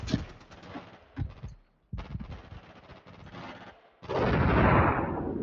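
Rifle fire during infantry combat training, a rapid string of loud close shots in bursts with short pauses, ending in a heavier sustained blast of gunfire.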